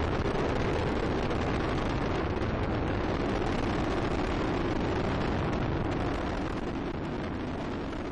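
Space Shuttle Discovery on mission STS-116 roaring during launch from Kennedy Space Center, a loud, constant broadband rumble with a windy, distorted texture that holds steady throughout.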